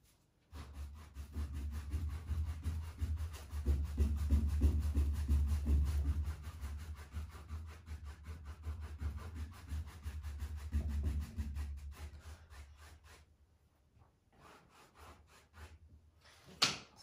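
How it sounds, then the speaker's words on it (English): A painting surface is rubbed back by hand with repeated scratchy, rasping strokes, steady and close for most of the stretch, then fading to a quiet pause before a final scrape. "Need to just finish off rubbing this back a little bit."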